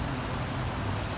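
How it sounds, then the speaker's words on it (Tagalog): Heavy rain falls in Salmiya, Kuwait, near Al Salam Mall. A short, even, dense hiss of downpour fills the whole clip with no breaks and no voices. "Ang ulan ngayon dito sa Kuwait. Ayan, lakas ng ulan, no?"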